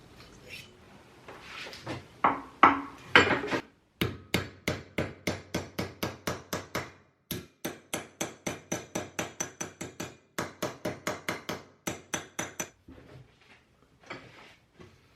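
Rapid series of sharp metallic hammer blows bending a piece of high tensile steel sheet around a vise, struck in steady bursts with short pauses between runs, close and crisp.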